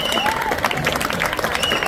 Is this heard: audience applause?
yes